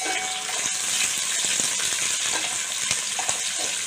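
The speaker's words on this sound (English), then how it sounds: "let the onions fry till they become golden brown" Onions frying in oil for chicken biryani, a steady dense sizzle with faint crackles and the occasional stir, close and continuous.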